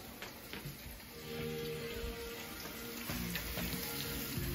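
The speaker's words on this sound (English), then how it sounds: "We got sizzling bacon." Quiet, crackling sizzle of bacon frying in a pan, steady spitting and popping with faint music in the background.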